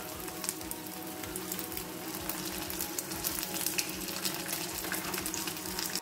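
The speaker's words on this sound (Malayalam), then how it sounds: "പെട്ടെന്ന് പെട്ടെന്ന് ഫ്രൈ ആവും." Egg-coated chicken pieces fry in hot oil for a chilli chicken dish, giving a steady, dense sizzle with light crackles and popping throughout, close and continuous with no talking.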